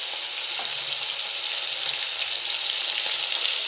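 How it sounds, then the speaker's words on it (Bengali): Fish frying in a pan gives a steady, close, hissing sizzle that holds without a break and with no voices over it. "এই যে এখন ভাজার জন্য বসিয়ে দিলাম, ভাজতে দিলাম মাছ।"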